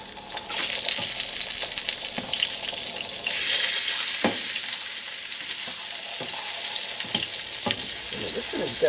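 Mushroom caps fry in a greasy pan with a steady, loud broadband sizzle, punctuated by occasional sharper crackles and spatters, getting louder partway through as the caps are turned over.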